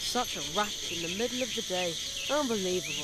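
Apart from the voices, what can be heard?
cricket chirping in video game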